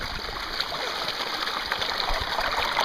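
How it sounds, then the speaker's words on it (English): Constant rushing water, a steady wash of splashing and roaring from a stream or falls, even and unbroken. "There's the waterfall."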